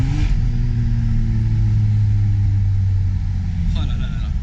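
A sports car engine, an Aston Martin Vantage or Ferrari Testarossa, rumbles loud and close with a steady low drone and a rising rev near the end.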